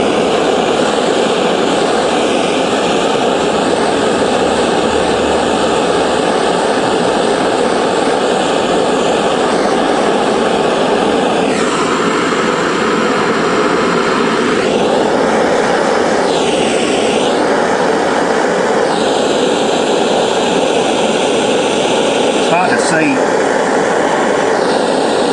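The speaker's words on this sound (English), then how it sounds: "I'm going to try the torch in my right hand and solder in my left." Gas torch flame roaring steadily while heating solder onto an Anderson plug connection for a CTEK 240V battery charger; a continuous broadband hiss fills the clip, with brief shifts in tone as the flame is moved.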